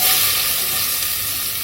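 Chopped onion sizzles and fries loudly in hot oil left in the pan from frying zubaidi fish, a dense steady hiss that carries on without pause.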